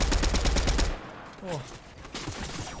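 Rapid automatic gunfire in the Fortnite video game rattles loudly and close for about a second, then breaks off, and a voice speaks briefly afterward.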